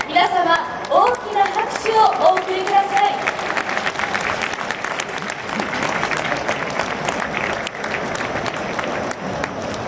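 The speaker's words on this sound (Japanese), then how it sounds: "大きな拍手をお送りください。" A festival crowd at an indoor arena stage in Tokyo gives sustained, dense applause, with a voice talking over the start and the clapping continuing steadily to the end.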